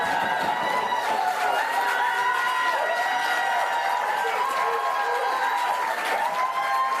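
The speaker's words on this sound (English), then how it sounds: "Raucous cheering there by the relieved Labour supporters." Relieved Labour supporters at a general election count erupt in raucous cheering and applause, a dense, loud wall of whoops and clapping that holds steady throughout.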